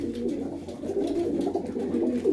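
Pigeons kept by a fancier coo softly and continuously nearby, overlapping low burbling calls with no pauses or voices.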